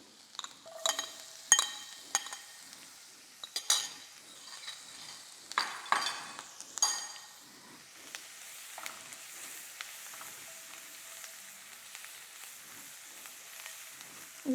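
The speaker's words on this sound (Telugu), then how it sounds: "కాసిన ఉల్లిపాయలు వేస్తున్నాను" Fried onions and minced garlic tossed into a pan for pasta in cheese sauce, with a soft sizzle under repeated scraping and stirring clinks of a spoon, close and moderately quiet, no talking.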